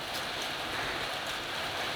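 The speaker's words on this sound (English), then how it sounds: "it started raining" Steady rain falls outside on an afternoon, a continuous even hiss of drops on surfaces with no voices over it.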